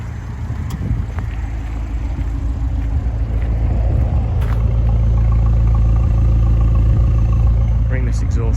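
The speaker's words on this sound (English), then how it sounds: "Ringless exhaust sounds absolutely brilliant, but it's not too loud if you're just driving it normally." An Abarth 500 engine idles with its exhaust note, a steady, deep, close rumble with a smooth, even hum that holds constant and grows slightly fuller over several seconds.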